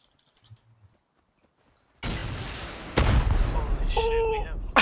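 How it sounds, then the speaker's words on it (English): Rocket launcher explosion in the survival game Rust: a sudden loud broadband blast cuts in after near silence, followed by a sharp crack and sustained rumbling debris, with faint tonal game sounds layered on top. "I heard the explosion. Dude, I blew someone up with the rocket launcher."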